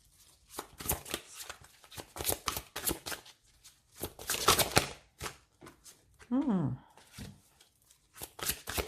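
Tarot cards shuffled and dealt out by hand, a string of quick papery riffles and soft slaps in bursts, close up, with no talking.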